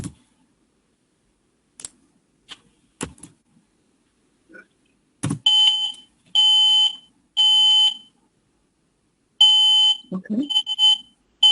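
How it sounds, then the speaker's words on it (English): A household smoke alarm sounding loud, sharp beeps in several long bursts, preceded by scattered clicks and thumps, with brief speech in between. "So that's what a smoke alarm will sound like when there's smoke in the"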